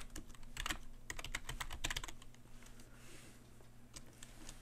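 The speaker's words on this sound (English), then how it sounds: "So I'm going to type in hello." Someone typing on a computer keyboard, a quick flurry of clicking keystrokes that thins out into a few scattered taps, fairly quiet and without speech.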